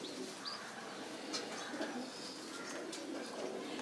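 Soft cooing from a 20-day-old racing pigeon chick, faint and intermittent over a steady hiss of background noise, with a few light chirps scattered through.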